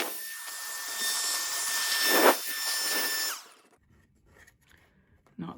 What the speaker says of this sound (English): I wish I had a better vacuum.